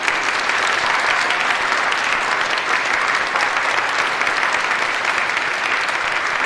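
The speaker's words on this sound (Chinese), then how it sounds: "掌声" An audience at a company's new product launch event claps in sustained, uniform applause, loud and dense, with a continuous wash of many hands that holds steady throughout without any talk.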